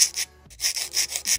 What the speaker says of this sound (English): So now we're just gonna take my flat file and file down the nail to shape.